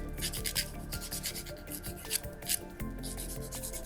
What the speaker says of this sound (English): take the hand file again and just reshape both sides